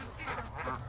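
Ducks quacking close by, two or three nasal honking calls in quick succession over a low background rumble.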